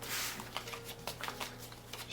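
Dominion cards are shuffled close to the microphone in soft, rapid riffling bursts over a low steady hum, quiet and with no talking.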